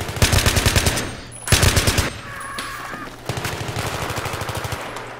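Automatic rifle fire in a first-person shooter match, an AN-94 among the weapons: rapid rhythmic bursts, loud and close, broken by short pauses and then a longer sustained string of shots.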